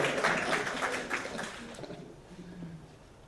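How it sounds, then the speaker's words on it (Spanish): Applause from a seminar audience greeting a speaker at a land-use planning event, a dense patter of claps that fades over about two seconds and dies into room tone. "Un aplauso a Fernando."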